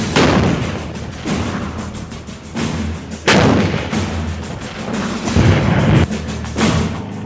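A K9 Vajra self-propelled artillery gun fires repeatedly, loud booming blasts in an uneven sequence of about six shots, each followed by a rumbling decay.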